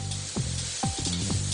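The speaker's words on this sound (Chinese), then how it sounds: "甚至连豆干都得切得细细的下去爆炒，再经过翻炒后要把豆香味提出来" Finely shredded dried tofu is stir-fried hard in a hot wok as filling for Puli spring rolls, giving a continuous close sizzle broken by a few scraping strokes of the spatula.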